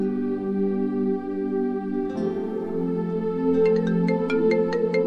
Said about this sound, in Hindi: लो, आ गया फोन उसका।